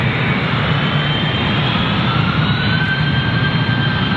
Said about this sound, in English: I got a heavy jet for Ontario coming overhead.